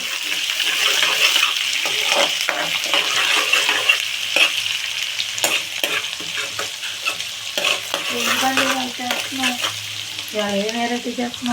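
Dried shrimp fry in a pan for a curry, with a loud continuous sizzle and stirring scrapes close up, while a voice talks briefly near the end.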